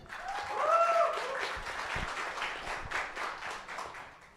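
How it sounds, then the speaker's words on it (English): An audience at a talk on Ukrainian startups applauds a speaker taking the stage, a dense steady patter of many hands clapping at moderate distance that swells at first and then holds, with faint voices mixed in. "big applause for Irina"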